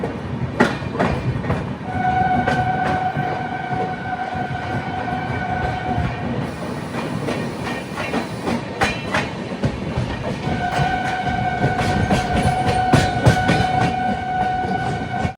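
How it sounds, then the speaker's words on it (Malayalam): The Gatimaan Express pulls out of Hazrat Nizamuddin station with a loud, steady rumble and rhythmic clatter on the rails, while a sustained horn tone sounds twice over the noise. "ട്രെയിൻ എടുത്തു"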